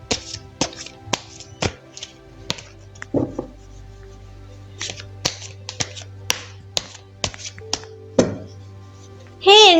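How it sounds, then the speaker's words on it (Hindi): Tarot cards being shuffled, producing a series of sharp, close snapping taps and flicks at an uneven rhythm, with a short voice near the end. "तो चलिए पहले ज़रा कार्ड्स को शफल कर लेते हैं।"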